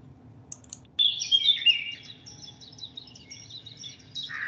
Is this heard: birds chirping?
yes